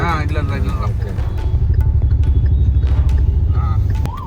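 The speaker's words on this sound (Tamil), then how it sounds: "இப்போ எவ்வளோ பீக் டிராஃபிக் இருக்கும் பாரு" Heavy street traffic in Varanasi fills the scene with a steady low engine rumble from cars and motorbikes, close and continuous, with scattered horn toots and clatter on top.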